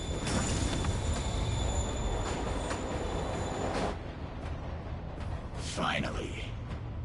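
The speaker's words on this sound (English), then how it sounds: "Train moving. Lee's getting away." A train pulls away from a platform in a Spider-Man video game, a steady loud rumble of rail cars rolling for about four seconds before thinning out, with game music and a brief voice near the end.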